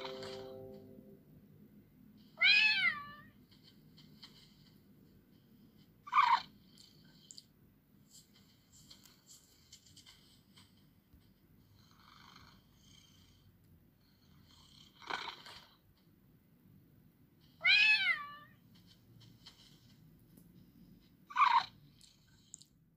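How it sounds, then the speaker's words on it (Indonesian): A domestic cat meows five times at spaced intervals, each cry short and fairly close, with quiet low rumbling and faint background noise filling the gaps between calls. "Kucing merupakan hewan karnivora."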